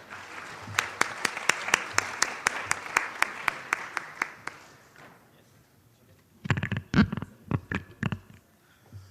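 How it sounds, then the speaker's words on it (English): Audience applause greets a presenter at a collegian research paper competition, a sustained burst of clapping that fades out, then a second shorter flurry of claps after a brief lull. "Please welcome him with a warm round of applause."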